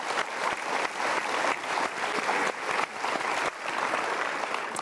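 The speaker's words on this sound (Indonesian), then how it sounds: "Kita berikan tepuk tangan." Loud, sustained applause from an audience, dense clapping throughout with a few slight dips and swells.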